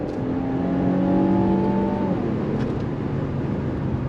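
Infiniti Q50 Red Sport engine revving hard in second gear up to redline, a loud steady roar with rising harmonics that climb for about two seconds, then settles into a sustained drone.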